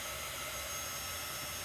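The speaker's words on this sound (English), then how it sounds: "or I use this little embossing tool." An embossing heat tool blows hot air to dry chalk paste on a board, a steady close whooshing hiss that holds at an even level, with no voices.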